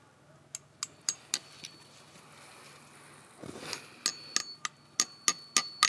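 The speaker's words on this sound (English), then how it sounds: "now you pound the spout in snug, but not like a nail" A metal sap spout is driven snugly into a maple tree with a hammer, giving a series of sharp, ringing taps in uneven rhythm, close by, with a brief rustle in between.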